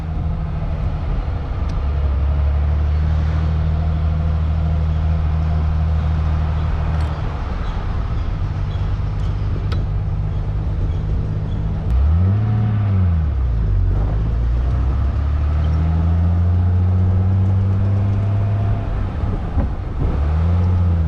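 A 1957 Mercedes-Benz 300SL is driven with a steady, loud engine drone that rises and falls through clear revving swells and gear changes, heard from close inside the car with no talking.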